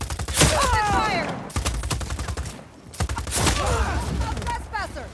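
Gunfire in Just Cause 4. Sharp shots come in rapid, repeated bursts with short pauses, mixed with shouting voices from the game and a loud, close rumble.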